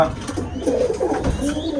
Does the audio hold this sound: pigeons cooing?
yes